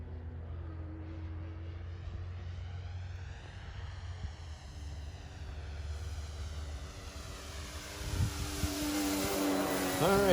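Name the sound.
Hangar 9 J-3 Cub electric RC airplane flying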